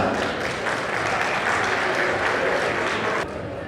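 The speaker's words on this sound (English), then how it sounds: "Please give a big round of applause." Audience at the JNTU Hyderabad Alumni Association's annual convention in New Jersey giving a big round of applause, a loud, continuous wash of clapping that drops off sharply near the end.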